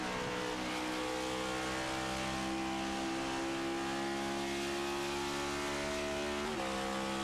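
Race car engine at full speed on an oval during a Miami 400 race in the HTL Cup Series, droning loud and steady, with a brief pitch jump as it shifts up to fifth gear.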